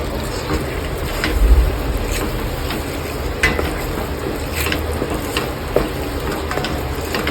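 Semolina prasad with almonds and cashews is stirred in ghee, giving a steady scraping and stirring over a soft, constant sizzle, close and fairly loud, with no talking.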